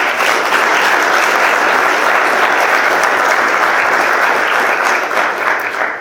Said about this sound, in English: We'll give them a round of applause as well.